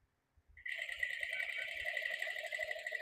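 Sewing machine stitching the curved neckline of a suit, starting after a few faint taps and then running as a steady, even whir at moderate volume without pause.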